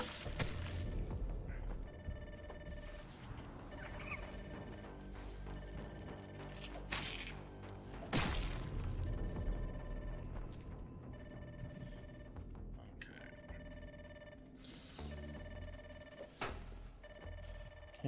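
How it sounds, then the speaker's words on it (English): A telephone rings repeatedly in the video game Grounded 2, its bright electronic trill repeating in bursts over game ambience and thuds, at moderate loudness. "Let's pick up this phone because it's annoying."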